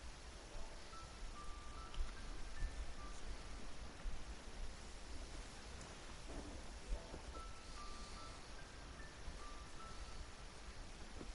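Heavy downpour of rain in the video game Genshin Impact, a steady, dense hiss that holds at an even level throughout with no clear thunderclap.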